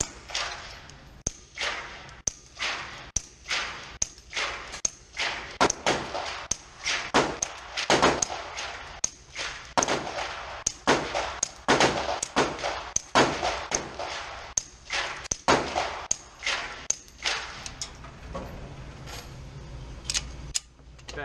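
A SilencerCo Maxim 9 suppressed pistol fired in a long string of shots, each a sharp, muffled crack with a quick decay, spaced roughly every half second to second, close and fairly loud, with no talk.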